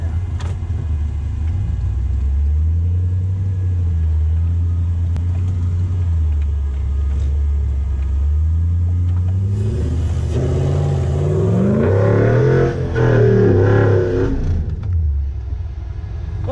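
A 3UZ V8-engined 4x4 climbs off-road, its deep, steady engine rumble holding close and loud before the revs swell and rise sharply toward the end, then ease off.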